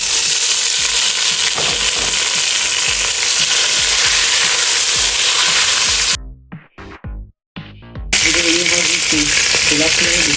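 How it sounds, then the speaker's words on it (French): Fresh chopped tomato fries loudly in a hot pan with a dense, crackling sizzle; the sound drops out abruptly for about two seconds, broken by a few stirring scrapes, then the sizzle returns. "je vais venir mettre ma tomate fraîche coupée"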